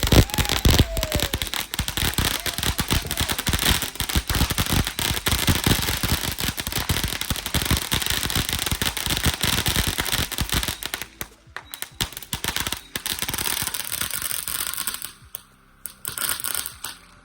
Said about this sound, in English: Dragon's Tears Fountain. Look at the inside here. It's a big firework, right?